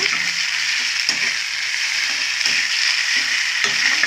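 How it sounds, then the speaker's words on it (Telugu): Curry paste fries in a pan with a constant, hissing sizzle, close and fairly loud, broken by a few sharp clicks of a stirring utensil against the pan. "ఇది కొంచెం బాగా ఫ్రై అవ్వాలి."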